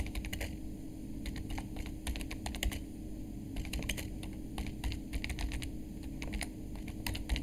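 Steady typing on a computer keyboard while entering a course comment in a university learning system, with quick irregular bursts of keystrokes over a low steady hum, close and alone.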